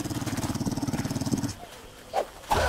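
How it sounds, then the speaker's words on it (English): A dog in the video game 7 Days to Die, Walking Dead mode, growling and snarling in a rapid rhythmic burst, then falling quiet before a couple of short sharp barks, close and fairly loud. "Sounds like the dog is outside."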